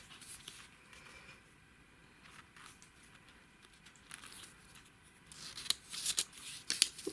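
Thick paper index journal cards with vintage altered surfaces are flicked and handled, giving faint rustles and soft papery taps that gather into quicker riffling bursts near the end.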